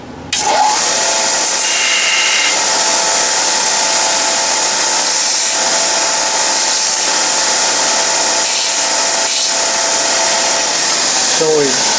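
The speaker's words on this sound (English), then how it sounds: "So now I'll take it to the grinder or the sander and square it off and chamfer it just a little bit" A bench grinder or belt sander squares off and chamfers a small metal part for a horizontal steam engine build, running as a steady, loud broadband whine for the whole stretch with no talk over it.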